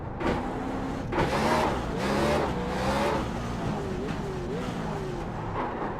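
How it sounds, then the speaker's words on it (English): A car engine revs repeatedly while the driver drags the brake and works the throttle, the pitch rising and falling in a series of surging pulls, heard close and fairly loud in the cabin. "See me dragging the brake right there and stepping on the throttle?"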